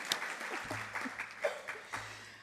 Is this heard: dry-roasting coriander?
no